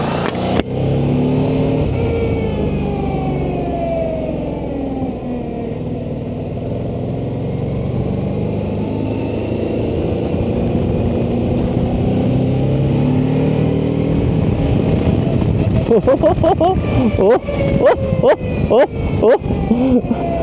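An X-Wedge motorcycle engine rumbles at idle, then revs and pulls away, its pitch rising and falling with sharp pulses near the end, while a person talks over it.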